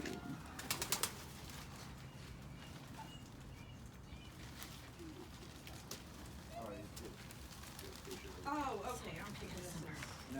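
Caged lovebirds and quail call in soft, scattered chirps and coos near and at moderate volume, with people talking and some rattling handling noises.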